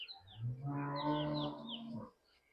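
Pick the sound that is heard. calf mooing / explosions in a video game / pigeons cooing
calf mooing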